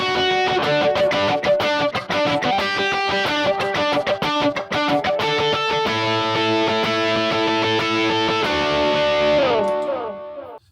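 Worship-style electric guitar strummed in a steady, busy sixteenth-note rhythm with crisp percussive muted hits, loud and continuous, ringing out into a final sustained chord.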